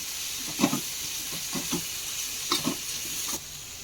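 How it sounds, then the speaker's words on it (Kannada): Turmeric powder frying in a pan for mango rice, a steady hiss with several short bursts of stirring and scraping, close up. "ಅರಿಶಿನ ಪುಡಿ ಹಾಕ್ಬಿಟ್ಟು ಫ್ರೈ ಮಾಡ್ಕೊಳ್ಳೋಣ"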